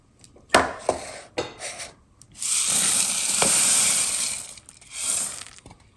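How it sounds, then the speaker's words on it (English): Rice Krispies cereal stirred into a bowl of melted mixture, with a few scraping clinks followed by sustained crackly rustling swells, close and moderately loud. "And give that a good mix."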